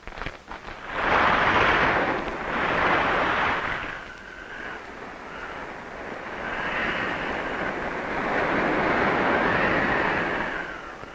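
Ocean waves near Point Hope, an Eskimo village on the coast, roll and wash in broad swells of surf that rise and fall several times with a breathy hiss.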